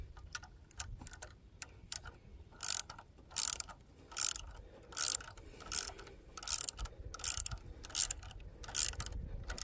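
A ratchet wrench tightens the injector bolts on a 1.6 HDI engine, giving close, crisp bursts of rapid clicking in an uneven rhythm, each lasting under a second, with no voices.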